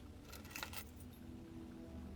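Keys jingle briefly in Blue Prince, a short metallic clinking burst near the start over faint, quiet background hum.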